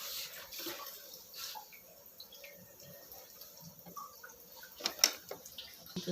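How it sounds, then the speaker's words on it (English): Water runs steadily through a Livpure RO purifier membrane during forward flushing, a soft continuous trickle and splash with faint drips and small clicks, quiet and close with no talk. "This is a forward flushing of RO membrane."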